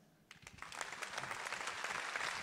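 Audience applause at an ADMD meeting in the Cirque d'Hiver, starting with scattered claps and swelling into steady, full clapping from a large crowd that holds loud to the end.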